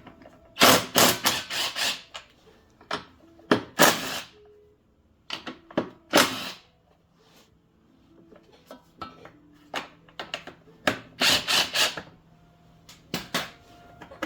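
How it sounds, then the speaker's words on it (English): Hand tools working on the starter of a Troy Bilt push mower with a Honda engine, sharp metallic clanks and ratchet clicks in irregular bursts with quiet pauses between, close by, with no voices. "Then we will need to remove the starter."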